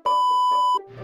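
Two bright electronic timer beeps sound close and loud, a short tone followed by a longer sustained one, with a brief murmur after.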